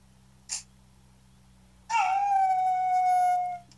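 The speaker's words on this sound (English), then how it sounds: "that's how to teach you a trick to howl" A game dog in Nintendogs + Cats gives one sustained, steady howl lasting nearly two seconds, preceded by a brief faint yelp, close and clear with nothing else around it.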